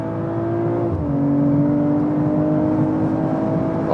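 Car engine droning steadily at speed, its pitch dropping briefly with a gear change and then climbing again under acceleration, with road and wind noise and no voices.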